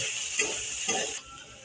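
Potatoes drop into a hot pan of shrimp, nigella seeds and green chilies for an aloo chingri curry, giving a steady close sizzle with two stirring scrapes before the frying noise drops lower.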